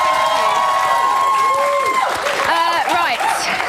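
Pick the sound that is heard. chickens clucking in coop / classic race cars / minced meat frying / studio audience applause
studio audience applause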